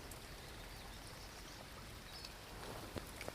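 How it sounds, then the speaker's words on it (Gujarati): Rain falls steadily outdoors after cattle are watered at home, a constant soft wash of drops with a few sharper patters near the end, moderately distant and without talk. "વાદળી જો વરસવાની ચાલુ જ છે"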